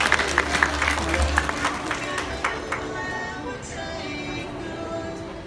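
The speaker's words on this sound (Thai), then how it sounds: "ขอเสียงปรบมือดังๆให้กับทุกท่านบนเวทีอีกครั้งหนึ่งครับ" Wedding guests at a Thai ceremony give a short burst of applause that thins out quickly into scattered claps, with a low hum and faint background noise of the venue underneath.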